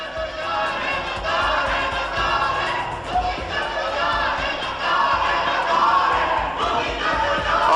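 A loud crowd chants and shouts slogans in unison during a parliamentary joint session on Kashmir, the massed voices sustained and dense throughout.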